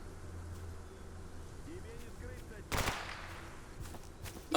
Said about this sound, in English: Shots coming from over there